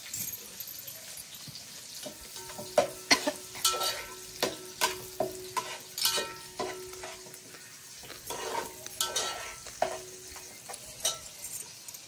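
Onion roasting in a pan for a village-style crab curry, a soft frying sizzle broken by repeated scraping strokes of a spoon stirring the onion, steady and close with no talk.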